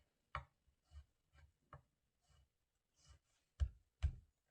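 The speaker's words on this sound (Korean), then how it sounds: "그래서 또 채 가늘게 일단 썰어요. 가늘게서 또 옆으로 다져요." Knife tapping a cutting board while finely mincing vegetables for jangguk porridge, a sparse series of quiet, irregular close-up knocks separated by short pauses.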